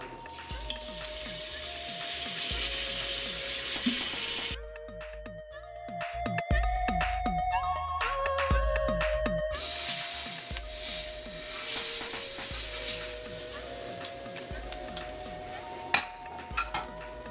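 Pork butt cubes sear in hot oil inside a pressure cooker, a steady loud sizzle broken by clattering stirs and scrapes of a utensil against the metal pot.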